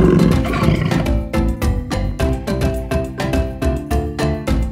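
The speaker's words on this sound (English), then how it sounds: "J. Jaguar." A jaguar roars in a series of deep, rasping grunts, loud and close, repeating in a steady sawing rhythm of roughly two per second.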